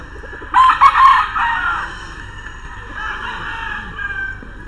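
At Firebird Game Farm, a gamefowl rooster ready for shipment gives one loud, close crow, followed by softer clucking and calls from other chickens in the background.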